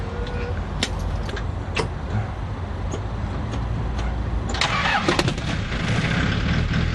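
A Daihatsu engine cranks over on a repaired reduction starter motor and catches, with a few sharp clicks before a steady running rumble, heard close in a workshop setting.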